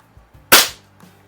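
A single sharp crack from a spring-powered pellet air pistol, a Browning Buckmark or Predom Lucznik springer, fires close by, with a short decaying tail and a few small mechanical clicks before and a faint tap after.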